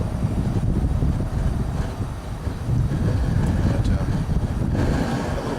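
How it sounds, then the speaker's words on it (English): Steady wind buffets the microphone outdoors beside a propane brewing burner fitted with wind dampers, a broad low rumble that continues loudly throughout with small gusty swells. "Wind out here"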